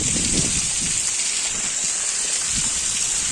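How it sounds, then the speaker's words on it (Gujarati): Heavy rain pours down amid cold gusting wind with standing floodwater nearby, making a loud, dense, unbroken hiss with low rumbling bursts of wind buffeting close by. "વરસાદ આવે છે અત્યારે"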